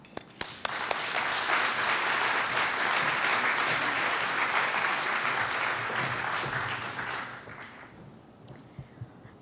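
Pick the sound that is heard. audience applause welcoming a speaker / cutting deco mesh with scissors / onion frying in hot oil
audience applause welcoming a speaker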